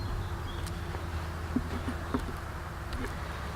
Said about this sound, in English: You can see some comb built out and lots of bee activity